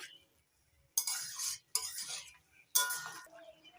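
Spice powder being stirred into cooking jackfruit in a pan, three separate bursts of scraping spoon-on-pan stirring with light metallic clinks, close and fairly loud, no talking.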